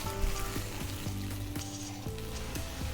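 Finely chopped tomatoes, about half a kilo, fry in a pan with a steady close sizzle and a few light knocks from stirring, alone without speech.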